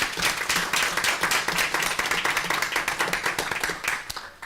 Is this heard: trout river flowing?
no